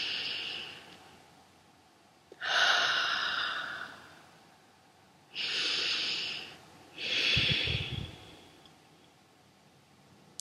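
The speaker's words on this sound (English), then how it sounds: "and just like breathe." Slow, deliberate breaths drawn in through the nose, three long airy swells each lasting a couple of seconds with pauses between, close and fairly soft with no talking.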